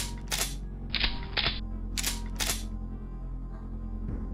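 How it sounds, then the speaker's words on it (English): Retro library sound effect used for the Duke Nukem 3D shotgun kick: a few sharp, dry mechanical clacks and bursts in an uneven rhythm, close and isolated with no voices. "And the shotgun's kick sound was also found in the library."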